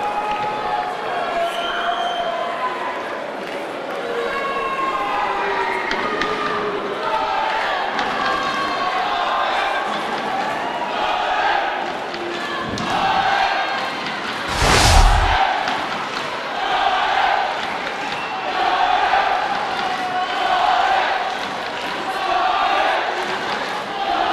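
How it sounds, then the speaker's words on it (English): A crowd at a kickboxing match cheers and shouts in the distance through a round, a steady roar with swelling bursts and one sharp thud, under a commentator's voice. "Listen to the only people cheering in this round."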